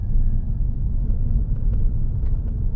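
A Toyota GR Yaris GR Sport driving along a road, heard as a steady, loud low rumble of engine and tyre noise from inside the car, with no speech.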